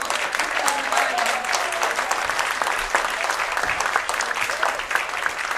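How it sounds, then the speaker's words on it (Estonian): Steady applause from a concert audience fills the whole stretch, dense and sustained clapping without a break. "Sütitame aplaus"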